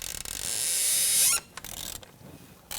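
A T30 Torx intake bolt on a rubber bushing is loosened with a socket on a 1998–2011 Ford Ranger 4.0L V6, giving a short, close ratcheting creak that rises then cuts off, followed by faint clicks.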